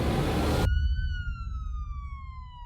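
Single police siren used as a sound effect, a clear wail that starts abruptly after a burst of broadband noise and then slowly falls in pitch, heard alone at moderate loudness.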